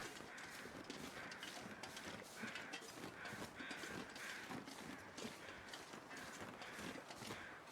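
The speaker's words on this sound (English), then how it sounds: "What are those birds for?" Crows cawing in The Long Dark, a wilderness survival game, as repeated harsh calls scattered over a steady wind-like background with clicking mechanical noises, fairly faint and with no talk.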